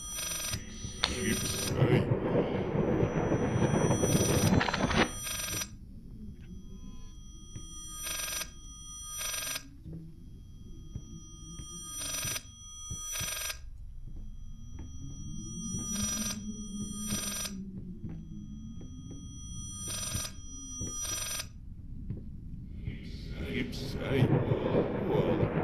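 Telephone ringing in repeated short bright bursts at a steady cadence across the stretch, loud and close, with a voice speaking at the start and a noisy patch near the end.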